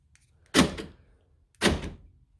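Aftermarket power door lock actuator on an 89-95 GMC/Chevy C1500 pickup truck firing twice, two distinct mechanical thunks about a second apart, close and clear with no talk.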